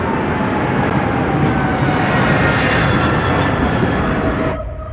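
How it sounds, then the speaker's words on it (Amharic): A loud, steady roar of an airplane passing overhead, broadband engine rumble holding strong for several seconds before dropping off abruptly near the end. "አውሮፕላን እያለፈ"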